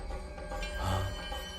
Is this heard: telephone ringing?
yes